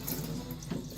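Tap water running through a water filter into a kitchen sink, a steady close hiss and splash with no voices over it.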